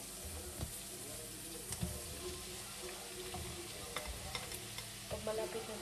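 Mushrooms for carbonara fry quietly in a pan, with a faint sizzle and light scrapes and clinks from stirring; no one speaks.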